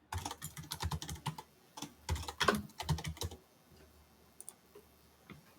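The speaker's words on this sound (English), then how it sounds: "type in the password" Quick bursts of keystrokes as a password is typed on a computer keyboard, close and crisp, with a dense run of clicks early on, then a few sparse taps trailing off into quiet.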